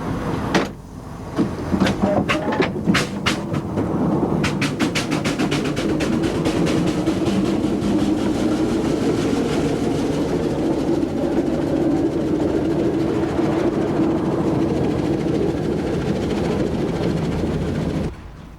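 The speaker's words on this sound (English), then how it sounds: "Fred loves an excuse to take his traction engine out on the road" An Aveling and Porter steam traction engine drives along a road with a loud, steady mechanical rumble and chuffing. Rapid clanks and knocks sound at the start, then a continuous low drone runs until an abrupt stop.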